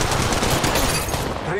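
Weapons firing in Apex Legends Mobile, a dense rapid burst of automatic gunfire, loud and close, rattling continuously before easing off near the end.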